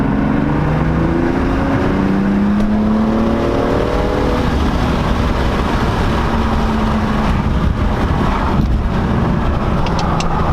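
A tuned BMW M235i with a Dinantronics sport tune pulls hard in third gear from low RPM. A loud, continuous engine drone climbs steadily in pitch, with constant wind rush over it and no talking.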